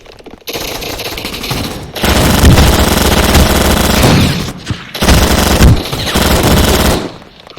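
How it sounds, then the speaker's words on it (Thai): Automatic gunfire in the Roblox video game, loud and sustained, comes in long rapid bursts split by brief pauses. The shots are dense and rattling with no talking. "ถ้าเราจะยิงศัตรูเราต้องไปยิง"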